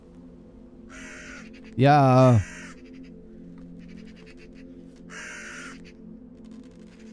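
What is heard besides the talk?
crows cawing in a horror video game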